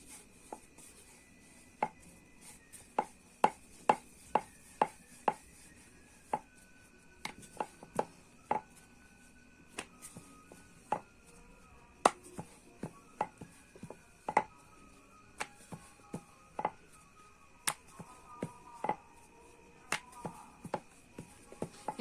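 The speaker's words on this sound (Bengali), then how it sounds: "আমি একইভাবে কিন্তু পরোটাগুলো সব বেলে নেবো" Methi paratha dough rolled out with a rolling pin, giving a series of sharp, close wooden taps and knocks in an irregular rhythm with quiet gaps between them, alone without talk.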